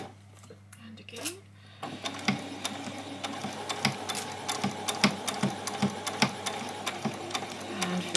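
A sewing machine stitches the bodice of a doll's dress, starting after a short pause and running in uneven pulsing bursts with clicks, close and fairly quiet, with some handling noise before it begins.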